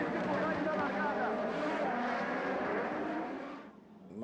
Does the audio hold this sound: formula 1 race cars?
yes